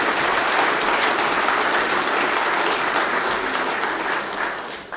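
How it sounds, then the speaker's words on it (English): Steady, dense applause from an audience at a national student awards event, loud and sustained throughout before tapering slightly at the end, with no talking over it. "Round of applause there."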